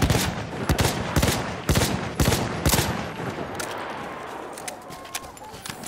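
Battlefield 1 gunfire cracks out in sharp, loud shots, a handful of spaced reports in the first few seconds, then more distant scattered firing under muffled battlefield din.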